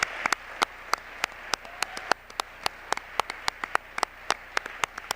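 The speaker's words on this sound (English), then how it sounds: "Please join me in giving the staff of the Arts and Humanities Council a big round of applause." Sparse, irregular clapping at a county arts and humanities awards ceremony, individual hand claps ringing out distinctly from a small number of people rather than a full crowd.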